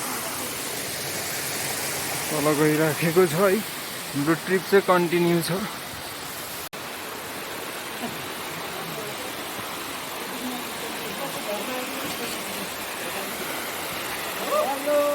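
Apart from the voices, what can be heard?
waterfall along a mountain trail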